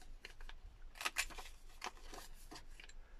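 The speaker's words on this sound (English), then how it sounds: "I may as well cut the corners off this while I'm here." Scissors snip the corners off a paper envelope pocket at close range, a few crisp cuts with two sharper snips bunched together, set over quiet paper handling and faint rustle.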